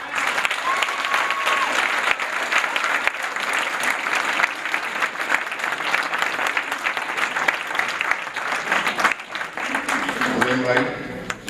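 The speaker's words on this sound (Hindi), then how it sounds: "भरपूर तालियां।" An audience at a 2005 ghazal concert in Houston gives sustained, dense applause for about nine seconds. The clapping then thins out as a voice comes in near the end.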